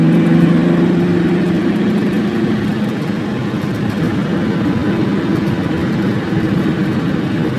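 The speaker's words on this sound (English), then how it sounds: "you saw a convoy of military vehicle" Heavy military convoy vehicles rumble past at close range, a loud, steady low engine drone with deep tonal hum easing slightly over several seconds, no talking.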